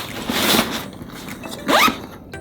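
Zipper on a Vanguard Havana 48 camera backpack, front pocket, pulled in two quick rasping strokes close to the mic, with a pause between them.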